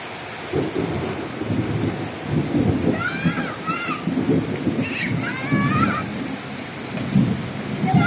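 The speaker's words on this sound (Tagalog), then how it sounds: "Kauna-unahang ligo nila ng ulan this year." Heavy rain pours steadily with rumbles of thunder, while children play and bathe outdoors in the downpour; high bird-like chirps and squeals rise over the constant roar.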